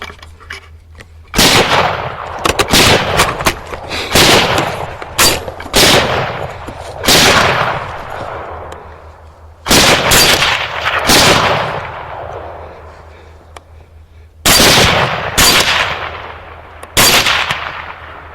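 Rifle shots crack out during a nighttime hog hunt, sharp loud reports coming singly and in quick pairs with pauses between, each trailing off in a ringing echo.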